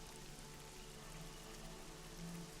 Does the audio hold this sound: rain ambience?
yes